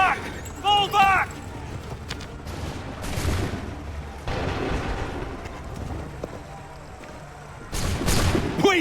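Musket volleys crack out in Assassin's Creed III, several loud broadband bursts spaced across a battlefield din with voices shouting over it.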